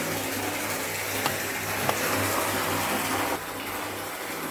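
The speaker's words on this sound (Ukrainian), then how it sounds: "Так, і звідси пішла вода на полив." Water pumped for garden irrigation gushes through a pipe in a steady, even rush, close and constant, with a couple of faint clicks and a slight drop in level near the end.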